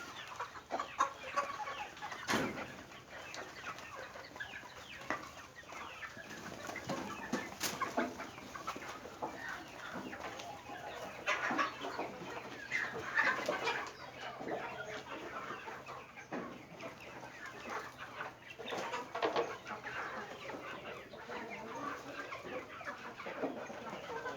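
Domestic free-range chickens on a Thai farm cluck continuously while eating feed, a busy flock of overlapping clucks and squawks at moderate distance with no talk.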